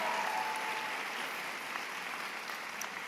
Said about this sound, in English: Another round of applause for Avery and her very compelling message.